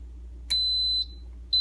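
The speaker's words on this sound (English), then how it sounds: "That's how it beeps and starts." An Instant Pot pressure cooker gives two sharp, high electronic beeps, a long tone then a short one, over a low steady hum as it starts a cooking cycle.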